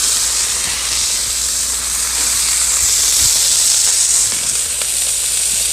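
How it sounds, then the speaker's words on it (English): Steak sizzles in ghee on a Blackstone griddle, a steady, loud, close hiss that holds unbroken throughout with no talk. "Get a little bit of ghee right on the griddle. And put the steak right on it."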